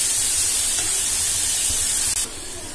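Grated carrot sautéing in a pan for carrot halwa gives a steady, close, broadband sizzling hiss that continues without pause and shifts slightly in tone near the end.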